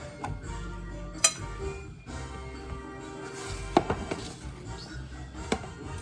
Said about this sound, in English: Just chop up a bunch like this